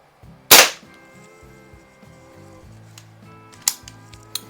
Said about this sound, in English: I really like shooting these 22 caliber pistols and air rifles.